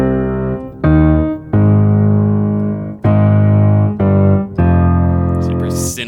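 Sinister, creepy recurring theme from the Loki episode 4 musical score: loud sustained chords with a rich, buzzing timbre, changing in several distinct blocks with short breaks between them.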